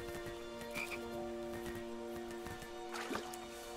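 A frog croaks in the King's Quest game, a few short throaty calls over a steady looping ambient background with no speech.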